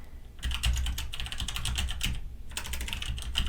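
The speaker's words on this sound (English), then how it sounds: "typing that in and hit enter" Rapid typing on a computer keyboard while entering a command on a Raspberry Pi, two close, steady bursts of clattering keystrokes with a short pause between them, no voices.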